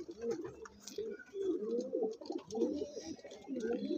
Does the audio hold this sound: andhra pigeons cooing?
yes